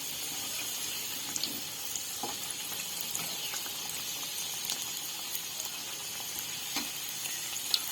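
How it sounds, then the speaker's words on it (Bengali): Samosas fry in hot oil over a low flame, giving a soft, even, continuous sizzle at low volume with no talking. "তেলটা আমার গরম হয়ে গেছে একে একে সিঙ্গাড়াগুলো আমি এর মধ্যে দিয়ে দেবো"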